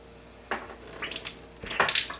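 Water running out of the spigot of a coffee maker being deep cleaned, soft trickling and splashing that starts after a brief quiet moment and swells in uneven spurts, close by.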